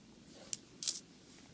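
Nickel coins dropping during coin roll hunting: two quick, faint metallic clinks close together against a quiet background hum.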